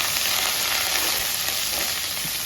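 Curry leaves and chillies fry in hot oil for a tempering, giving a steady, loud, close sizzle and crackle with faint stirring and no voices.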